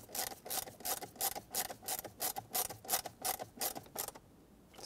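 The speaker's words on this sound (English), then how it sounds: "Reattach it with the screws on the bottom." Screws are driven into a plastic steering column cover on a 2014-2021 Mazda 6, heard as a close series of quick, regular ratcheting bursts from a driver, about a dozen in a row, then a short quiet stretch.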